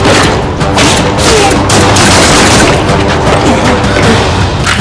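Loud, dense gunfire crackles continuously, rapid overlapping shots and booms filling the whole stretch without a break.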